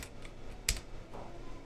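A computer keyboard with bouncy keys gives one sharp, close keystroke click that stands out above a steady background hiss, with faint softer taps around it.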